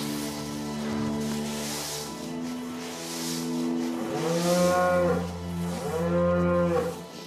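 Cows mooing inside the cowshed of a small farm, several long, low, drawn-out moos that overlap one after another, close and fairly loud.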